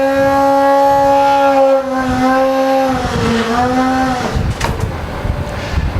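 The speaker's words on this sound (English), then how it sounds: "you're going to pull the electric primer handle" An electric primer whines on a Skeeter brush truck fire pump: a loud, steady tonal hum that sags in pitch, then breaks into a rougher, gurgling rush as the prime catches.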